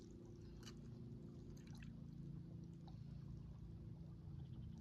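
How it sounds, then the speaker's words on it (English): Water pours from a bottle at a creek during outdoor fishing, a steady low gurgling flow running continuously and close, with a few faint splashy trickles on top and no talking. "I'm just pouring water out until the minnow comes out"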